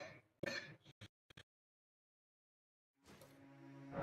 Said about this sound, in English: Don't make me laugh. It makes me cough.